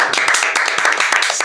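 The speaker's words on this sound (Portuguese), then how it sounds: "Aplausos!" Studio audience clapping and applauding on a podcast set, a dense burst of close, steady handclaps filling a short moment with no voices over it.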